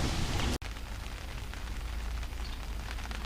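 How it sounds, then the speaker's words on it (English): Steady rain falling outdoors in a work area where a Caterpillar engine is being repaired, a continuous broadband hiss with a brief dropout early on, then an even, moderately loud patter throughout. "It's starting to rain and I gotta get this motor covered up."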